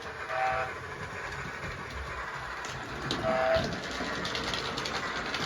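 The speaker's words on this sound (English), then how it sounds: "There's the short whistle," A short, faint whistle sounds twice over the continuous rumble and rattle of a Hornby LNER P2 model steam locomotive running nearby in 00 gauge with a digital sound unit.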